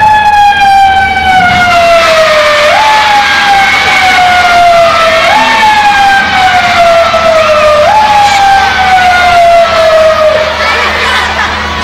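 A wailing ambulance siren rises and falls in repeated sweeps, loud and close throughout, with faint crowd murmur beneath.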